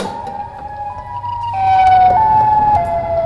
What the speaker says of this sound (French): Alors, le premier bruit, c'est une alarme de Chicago.